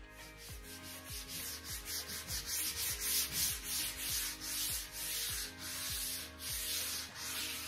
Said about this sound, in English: Cover up, and we're going to get stuck in with some sanding.